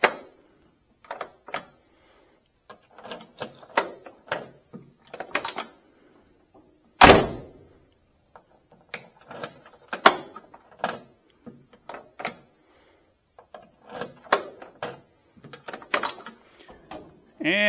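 The door locks on a 1965 Chevrolet Impala convertible are worked over and over, giving scattered mechanical clicks and clunks. One louder knock stands out in the middle.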